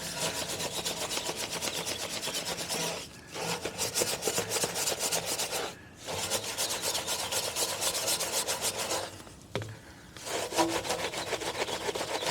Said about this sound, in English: It doesn't take much, just a little bit of scrubbing.